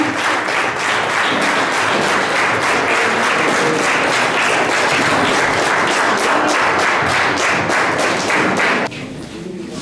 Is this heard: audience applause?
yes